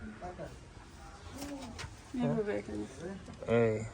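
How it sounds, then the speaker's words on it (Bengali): Soft, low pigeon coos come in a few short bursts, close by in Satkhira, Bangladesh, with people talking over and between them. "এখানে পায়রা আছে"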